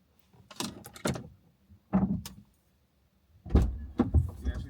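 A car door opens and shuts as a person climbs into a parked car at a farm, with a few close knocks and thumps separated by quiet gaps.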